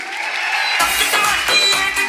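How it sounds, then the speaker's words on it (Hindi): Audience applause at a Safe Shop event in a hall, dense clapping swelling in loudly after a brief lull and carrying on steadily, with a murmur of crowd noise underneath. "इनके लिए जोरदार तालियां बनती कि नहीं बनती?"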